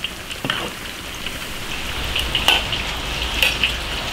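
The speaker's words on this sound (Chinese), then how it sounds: "把这个茄子稍微炸一下就行了，不用炸时间太长" Eggplant briefly deep-fries in oil in an iron wok, producing a steady rain-like patter of bubbling oil with scattered sharp pops and spits throughout.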